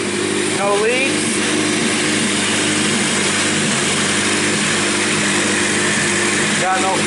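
A fully built turbocharged Honda D16 engine runs on its first start, a steady loud mechanical drone with whining and rising tones throughout, while people talk over it.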